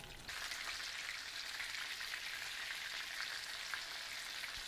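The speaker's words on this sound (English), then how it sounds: "we're going to let them sear up so that they're nice golden brown" Chicken cutlets sear in a hot pan, giving a steady, close frying sizzle that holds an even level throughout with no voices.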